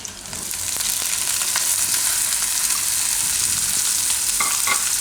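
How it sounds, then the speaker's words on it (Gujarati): Boiled corn kernels sizzle loudly in hot ghee with cumin seeds, a steady dense frying hiss that swells in the first second and then holds, with faint stirring scrapes near the end and no talk. "હવે આપણે આમાં નાખીશું મકાઈ"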